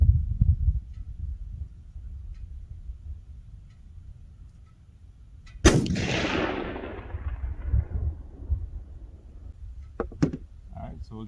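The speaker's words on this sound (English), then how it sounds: "my next shot will be at 100 yards. This is not a stable shot either. It's more of a offhand shot." A single rifle shot is fired offhand at a 100-yard target outdoors: one loud, sharp crack midway with a long decaying echo, preceded and followed by low wind and handling rumble.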